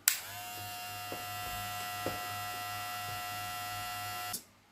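A Hatteker SK 1619 electric trimmer clicks on and runs with a steady, close, smooth buzzing whir for several seconds, then cuts off abruptly at the end.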